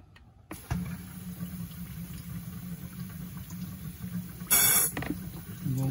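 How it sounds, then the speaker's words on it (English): Coolant drips and patters underneath a 2019 Nissan Leaf as compressed air from an air compressor is pushed through the cooling system via an HVAC flush fitting, giving a steady close hiss with a brief louder burst near the end. "A little bit of air, and you can hear the coolant dripping underneath"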